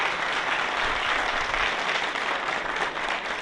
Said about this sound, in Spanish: dale por favor un fuerte aplauso a los papás